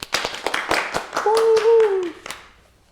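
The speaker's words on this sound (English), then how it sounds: "Claps all around for the boys." A short burst of clapping hands, several sharp claps in quick succession during a podcast, with voices and a sustained tonal sound mixed in toward the middle.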